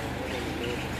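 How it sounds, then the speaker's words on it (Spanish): Small birds chirp briefly against a dense, steady background noise. "Ahí están los pajaritos."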